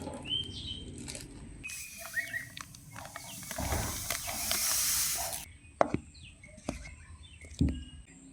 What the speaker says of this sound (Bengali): সুজিটাকে মিক্সি জারে দিয়ে জাস্ট একটু ঘুরিয়ে নিয়ে আসলাম